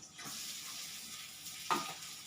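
Fried ingredients go into a pan of Dehradun rice for basanti pulao, producing a steady, soft, close hiss of sizzling with a brief utensil clatter near the end.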